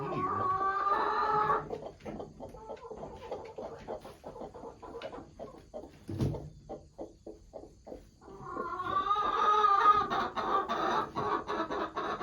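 A broody chocolate Orpington hen clucks and grumbles close by in a nest box, with rapid rhythmic clucking pulses building into louder drawn-out protesting calls at the start and end.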